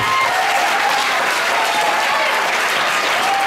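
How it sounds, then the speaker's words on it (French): Dense, steady applause from a large crowd at a political rally of the Rassemblement Républicain party, loud and sustained throughout with no pauses. "Est-ce qu'on peut applaudir?"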